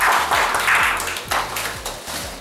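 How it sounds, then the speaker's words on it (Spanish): Audience applause at a comic contest during a James Bond fan convention, steady clapping from a crowd that swells early then gradually thins out, with a rhythmic low thumping underneath. "Un aplauso aquí."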